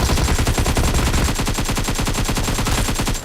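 Loud, nonstop automatic gunfire in the mobile game PUBG Mobile, a rapid, even stream of close shots that runs unbroken for about three seconds before cutting off.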